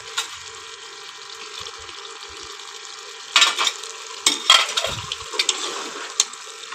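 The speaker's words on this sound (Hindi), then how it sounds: "गोश्त डाल लो ना इसमें, वो भी भून जाए साथ" Meat stir-fried in a pan for a home-made curry sizzles steadily, with scraping and stirring clatter that grows busier and louder in the second half.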